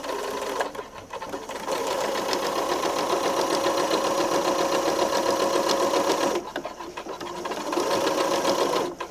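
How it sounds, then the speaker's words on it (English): Sewing machine stitching a seam, a fast even mechanical whirr in two long bursts with a short pause between, close and moderately loud, with faint room sound around it. "I'm just going to start and sew my seam like normal"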